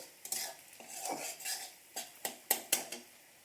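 Onions frying in a pan are stirred with a utensil, giving a series of scraping, clinking strokes that quicken toward the end over a soft, faint sizzle.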